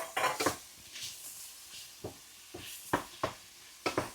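Prawns being fried for prawn rice and stirred in a pan, with sharp clinks and scrapes of the spoon against the pan in irregular bursts over a soft background sizzle, close by and without talk.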